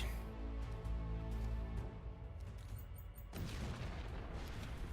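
Backstab fireworks going off in the Warpforge 40k video game, a dense run of booming blasts and crackling bursts packed together over a steady low rumble, with no one talking.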